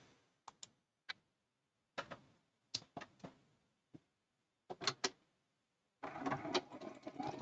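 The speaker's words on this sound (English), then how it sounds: "we're switching over to the sewing machine, and I'm just going to start doing a bunch of chain piecing." A sewing machine chain-pieces quilt fabric, starting with scattered short clicks and taps before a brief burst of steady stitching at the end, all fairly quiet and close.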